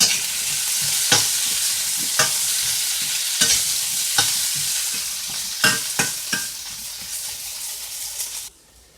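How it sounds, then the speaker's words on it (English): Pre-boiled yellow yams stir-fried in a hot pan, with a continuous loud sizzle and regular spatula scrapes roughly every second, close up, before the sizzle drops away abruptly at the end. "we'll stir fry that for a little bit"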